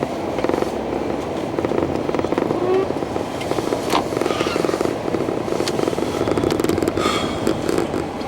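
A car drives along with a continuous road and engine rumble heard from inside, steady and moderately loud, with some scattered speech over it.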